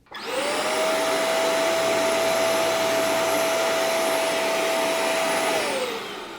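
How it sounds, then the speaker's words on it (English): Hoover CleanSlate XL spot cleaner running on a stain, a loud steady motor whine with suction hiss that starts abruptly, holds constant for several seconds, then winds down. "now we're gonna use this Hoover to attempt to remove this stain on this side"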